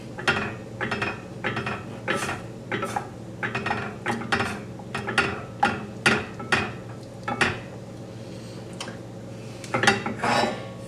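A spoon stirs cocoa powder into hot cocoa in a pot, giving repeated scraping and clinking strokes against the pot in an uneven rhythm, close and fairly clear, with no speech.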